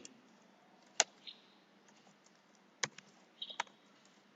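Python commands typed on a computer keyboard produce sparse, quiet keystroke clicks in irregular bursts, close and isolated against a near-silent background.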